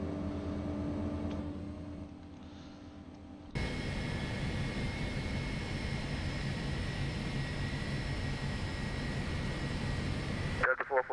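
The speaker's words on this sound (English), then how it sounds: "let's go ahead and start engine 1. 1 and 2, RPM is coming alive." Airliner engines spool up in the video game X-Plane 11, a rising turbine whine and roar that jumps in abruptly a few seconds in and holds steady and loud. A voice speaks early on, and the sound cuts off sharply near the end.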